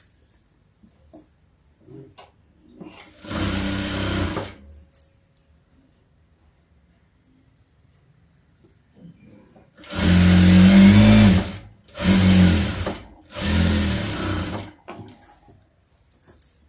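A sewing machine stitches a seam on cloth lining in several loud, close whirring bursts, one short run followed after a pause by three longer runs, with faint background noise between them.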